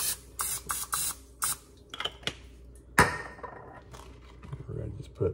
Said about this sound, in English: Open up the griddle, don't forget your Pam,